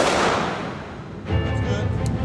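Handgun shots ring out at a concealed carry range in Illinois, a sharp report early and another burst later, close and loud with people talking around them.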